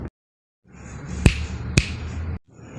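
Two sharp, crisp finger snaps about half a second apart ring out loud and close over a low background hum, with silence before and after.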